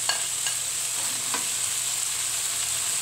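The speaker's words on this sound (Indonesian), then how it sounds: "Kita tumis." Petai beans stir-frying in a hot pan, a steady close sizzle with a few light scrapes of the spatula in the first seconds.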